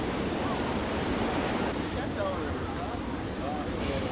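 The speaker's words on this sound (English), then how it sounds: "right where the water's crashing all around you" Water crashing and churning at the outflow at the foot of Niagara Falls, a dense, steady roar with wind buffeting the microphone, heard close from a boat, with faint voices underneath.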